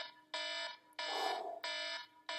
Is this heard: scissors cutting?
no